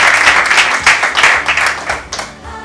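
Children clapping hands together: a loud burst of group applause with uneven, overlapping claps that thins out and fades near the end, with no talking.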